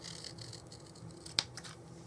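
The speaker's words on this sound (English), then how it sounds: "you're going to take a pair of scissors and you're going to cut from the centre one on the short side down" A pair of scissors cuts through card along score lines, a faint papery rustle and then one sharp snip near the end, quiet and close.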